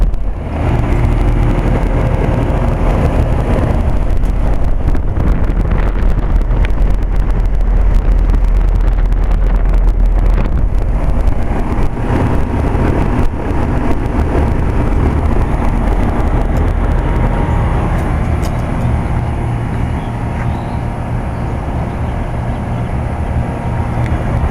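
A 1990 Bryant 5-ton straight-cool air conditioner runs under heavy heat load, its condenser fan and compressor making a loud, steady broadband roar with a low hum, close and continuous with no talk.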